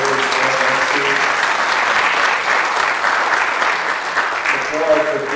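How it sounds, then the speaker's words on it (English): A full round of audience applause for committee members at a presentation, dense and steady clapping sustained throughout, with some voices faintly audible within it. "how about one more round of applause for all the committee members and pillars 1 and 2?"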